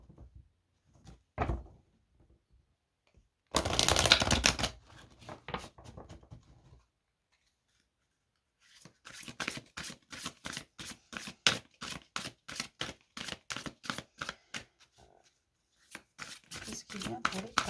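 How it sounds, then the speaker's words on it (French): Playing cards are shuffled close by in quick riffling bursts, with a few soft handling clicks and rustles between them and a longer run of rapid flutter near the end, heard alone without talk. "On va juste bien mélanger les cartes"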